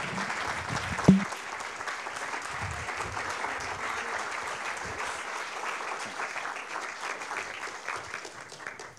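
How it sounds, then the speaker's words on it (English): Steady audience applause at a public conversation event, moderately distant and even throughout, with one sharp knock near the start and no speech over it. "Please join me in giving them a big round of applause"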